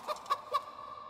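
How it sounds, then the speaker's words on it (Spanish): A chicken clucks three quick times from a spell in the video game MediEvil, short bright clucks close up over a faint steady game tone. "ese es el de la gallina"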